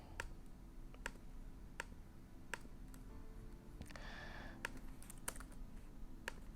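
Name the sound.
fast typing on a keyboard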